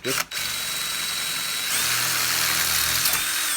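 A power drill whirs steadily at high pitch, its tone shifting partway through as the bit bites into a metal air nozzle; close and loud, no talking.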